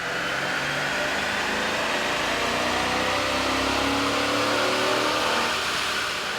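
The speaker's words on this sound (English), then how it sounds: "Here's a comparison of the sound of a Chrysler 300C on the dyno with the stock OEM system versus" A Chrysler 300C running on a dyno with an AEM air intake fitted, its engine held at a steady, loud, continuous roar with broadband intake noise and no talk.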